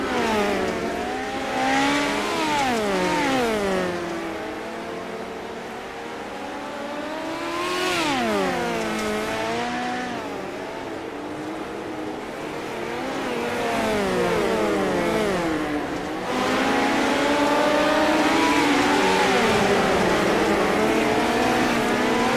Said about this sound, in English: I'm just going to let y'all take time to be able to listen to the cars and watch these drivers get around the track here